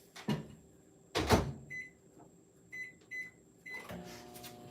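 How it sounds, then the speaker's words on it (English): A microwave oven reheats chocolate candy melts, with door clunks and opening thumps, a soft steady hum, and several short beeps repeating in a pattern, close by and with no voices. "I'm actually going to pop this in the microwave for like 10 seconds or so, just to make sure it stays nice and melty"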